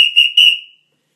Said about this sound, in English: 4 quick blasts of the whistle are blown to terminate and end the jam period